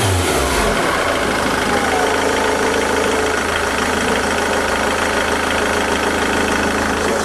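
A diesel car engine is revved hard to full throttle during an airflow meter test, roaring loud and steady and close by for the whole stretch, with no talk over it.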